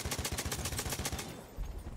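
Rapid automatic gunfire from a weapon in the video game Battlefield 1, a fast, even stream of loud shots for more than a second before trailing off, with no talk.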